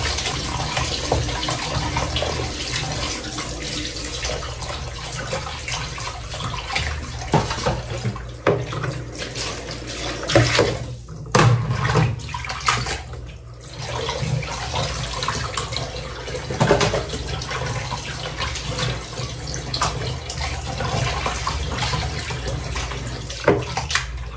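Running tap water splashing over raw chicken being washed a second time for adobo, a continuous close stream with uneven gurgles and brief interruptions.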